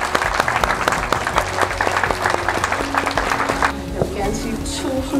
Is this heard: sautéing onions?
no